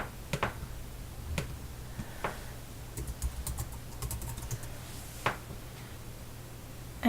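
A file name being typed on a computer keyboard while saving an SVG in Adobe Illustrator: a close run of light, irregular keystroke clicks over a steady low hum, with no one speaking.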